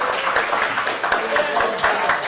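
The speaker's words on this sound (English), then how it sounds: "maybe a round of applause for Logos Minor." An audience at a Transformers fan convention panel in Toronto applauds, with dense clapping that holds steady from start to finish in a room.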